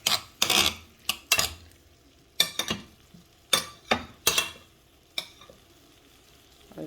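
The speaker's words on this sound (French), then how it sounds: "Je vais venir maintenant mélanger tout ça." Beef and tomato with a crushed stock cube being stirred in a pot for spaghetti, a series of sharp scraping and clattering strokes at irregular intervals over a faint sizzle, close by, with no talking.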